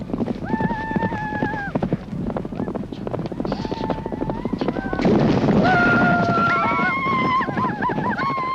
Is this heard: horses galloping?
yes